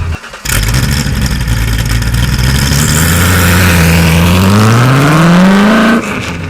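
A Superformance Ford GT40 MKII engine revs up steadily, its pitch climbing smoothly for several seconds before cutting off abruptly; loud and close, with no talking.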